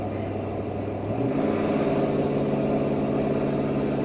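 Ford Powerstroke diesel truck engine straining uphill under load, a loud, steady low drone close by; partway through the pitch drops and the engine note grows fuller and heavier as it labours on, with no talk.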